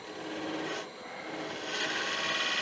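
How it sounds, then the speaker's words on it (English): A gouge making pull cuts on an Irish bog oak chalice spinning on a lathe gives a steady, close rasping scrape that dips briefly and then swells louder, with no talking. "I'll pull cut with that gouge."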